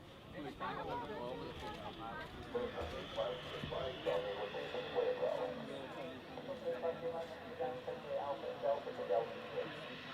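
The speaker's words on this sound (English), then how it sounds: "Just then you heard some of what we call the RT, or radio transmissions, of the pilot of that particular aircraft speaking to air traffic control" A pilot's voice comes over an aircraft radio link to air traffic control at Manchester Airport, a steady stream of speech with background hiss and faint engine rumble.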